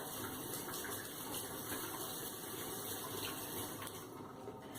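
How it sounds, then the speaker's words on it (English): Tap water runs steadily over hands being rinsed, a continuous close splashing hiss that holds even throughout with no voices. "I just rinse my hands and I let it dry."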